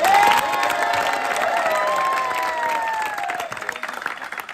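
A crowd cheering and clapping for a govinda pathak human-pyramid team, loud at first, with whistles and shouts riding over the applause before it gradually thins out.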